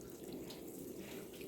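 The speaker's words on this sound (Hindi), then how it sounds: "आप ये देख सकते हैं किस तरह से पहाड़ों से पानी यहाँ आ रहा है।" Mountain water running down stone pilgrimage stairs on the Mangi Tungi trail, heard as a continuous close rushing, splashing flow with no talk.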